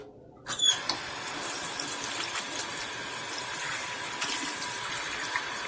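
Water is poured from a cup into a Copper Chef pan holding a Parmesan potato bake, starting with a sudden splash and running as a steady, close gush.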